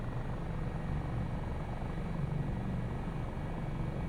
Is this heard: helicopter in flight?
yes